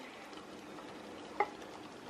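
Parmesan cheese being stirred into a keto chicken dish in a hot pan, a soft, continuous scraping and gentle sizzle with one brief clink of a utensil, quiet and close.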